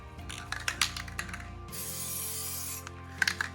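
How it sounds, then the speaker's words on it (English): An aerosol can of Plasti Dip sprays in one steady hiss lasting about a second, between small clicks and handling noises. "Making sure it's spraying first"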